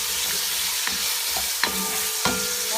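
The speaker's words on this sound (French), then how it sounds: "On mélange nos oignons." Onions sizzle steadily in a frying pan while a utensil stirs them, with scraping strokes breaking through the constant hiss at uneven intervals, close and without talk.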